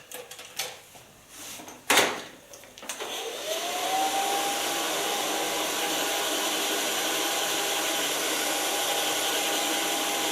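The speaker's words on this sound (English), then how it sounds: "So now I can blow dry the hair." Hair dryer blowing a doll's hair during a make-over: a few clicks and knocks, then the motor switches on and settles into a steady, close whooshing roar with a faint whine that holds to the end.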